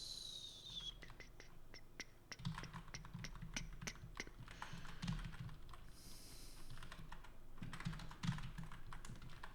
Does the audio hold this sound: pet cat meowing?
no